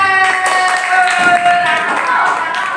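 Classroom applause for a student during a lesson on Quran recitation: scattered hand claps from a group of pupils, fairly close, running under a steady voice for a few seconds.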